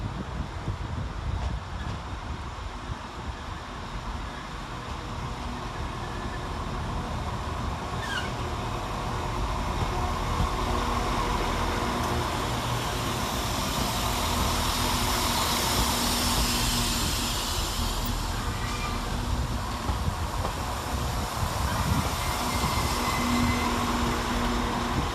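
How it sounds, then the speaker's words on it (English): Northern Class 195 units 195019 and 195015 on a Leeds to Chester service rumble through Bradford Interchange. The deep station drone and engine hum build gradually, with a faint brief squeal, and continue steadily for about twenty-five seconds. "following in behind that is 195019 and 195015, working the 1404 Northern service from Leeds to Chester"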